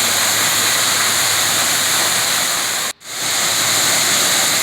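Steady, loud roar of a waterfall at Natural Falls State Park, Oklahoma, where spring water pours out of the rock; the dense rushing wash runs continuously, broken only by one brief cut near the middle.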